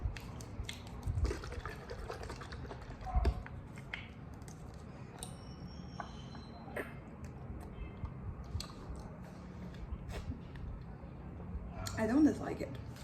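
Vitamin drink powder being mixed into coconut water, faint liquid sloshing and scattered clinks and ticks from the container, heard quietly with someone talking nearby.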